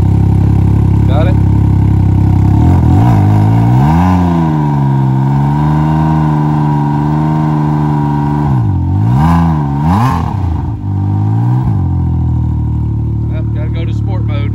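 A Ryker with a modified exhaust idles and revs repeatedly, its deep engine note rising and falling in several pulls while people talk nearby.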